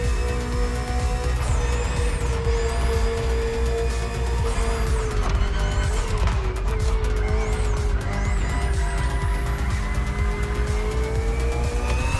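A BMW M Hybrid V8 endurance race car from 2023 roars steadily at high revs in The Crew Motorfest racing game, its engine tone shifting with gear changes and brief tire squeal, loud and continuous with no talking.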